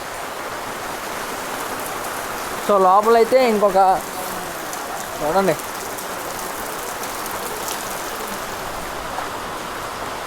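Heavy rain pours steadily in a broad, close hiss that lasts the whole stretch, while someone speaks briefly over it in the middle.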